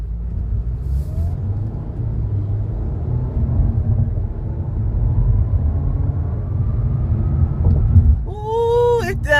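An Audi A4 S Line in auto mode pulls away on the highway, its engine and road rumble building steadily and loud up close, with a brief tonal whine near the end.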